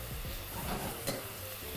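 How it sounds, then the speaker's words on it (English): Vegetable stir fry with green beans being stirred in a hot pan after sauce goes in, a steady soft sizzle with light scraping and one brief clink, no talking. "In goes the sauce, I'm just gonna get up a little stir."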